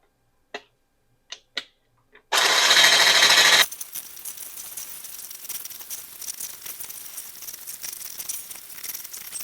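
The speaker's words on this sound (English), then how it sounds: "I'm going to whisk until stiff peaks" Egg whites whisked to stiff peaks for a chocolate torte: a few light taps, then a loud rushing burst, followed by a steady rapid ticking rattle of the whisk that keeps going, close and even.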